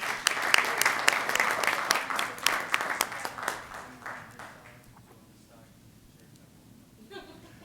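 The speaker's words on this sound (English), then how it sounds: "So a round of applause for each of them." An audience at a Board of Regents meeting breaks into dense, lively applause that rings out strongly for a few seconds, then thins and fades away to near quiet, with a brief murmur near the end.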